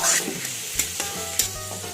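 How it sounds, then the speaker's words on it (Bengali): Pieces of chicken frying in a pan for chicken egg fried rice, sizzling steadily with several sharp stirring knocks and scrapes, close and without talk. "এটা একটু ফ্রাই হোক"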